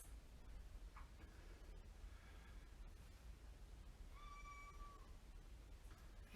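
A pet cat indoors gives two faint meows, a short one early and a longer drawn-out one later, over a steady low background hum with occasional soft ticks.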